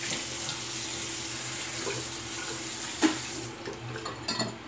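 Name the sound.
water running from tap to rinse razor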